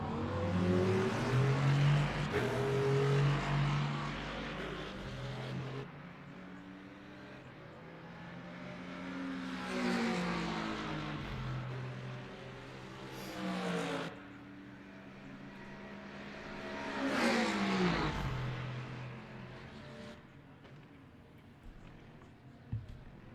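Race cars in the Le Mans Ultimate sim racing game roar up the pit straight at Monza during a multiclass race, engines swelling and fading in several waves as cars pass, with no speech.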